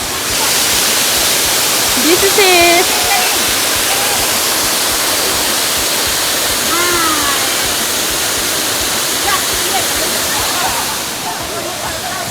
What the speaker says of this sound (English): now we are again on the next waterfall which is on the same area